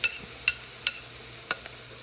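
Cajun trinity vegetables stirred into a hot gumbo roux for Louisiana chicken and sausage gumbo, giving a soft steady sizzle with four or five sharp spoon scrapes against the pot, close and fairly quiet.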